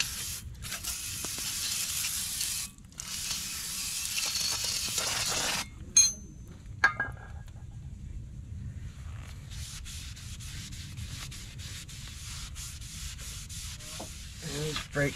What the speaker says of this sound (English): So make sure you clean your rotors first.